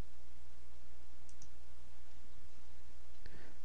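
A few faint, sharp computer mouse clicks sound over a steady low hum, spaced irregularly across a few seconds.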